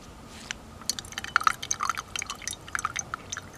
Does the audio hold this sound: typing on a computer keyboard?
no